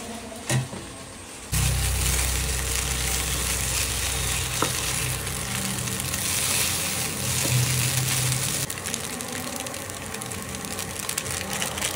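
Maggi noodles frying in a pan on a home stove: a faint clink, then a loud, steady sizzle that starts suddenly and continues to the end, easing off slightly near the close.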